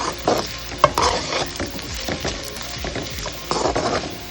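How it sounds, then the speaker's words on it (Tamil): Chopped onions sizzle and crackle in a hot pan for capsicum masala fry while a spoon stirs them with occasional scraping taps, close and steady. "நறுக்கி வச்ச வெங்காயத்தையும் நாம் இதில் சேர்த்தாச்சு"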